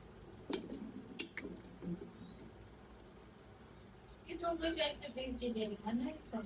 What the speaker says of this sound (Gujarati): કેમ આ પાણી ધીરું ધીરું આવે?